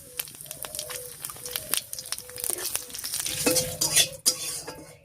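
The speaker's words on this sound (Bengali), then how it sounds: "ফোড়ন দেব গোটা জিরা, শুকনো লঙ্কা আর গোটা গরম মশলা দিয়ে" Whole cumin, dry red chillies and whole garam masala crackle and sizzle in hot mustard oil as a tempering, with steady close-up stirring scrapes and clicks of a spoon against the pan.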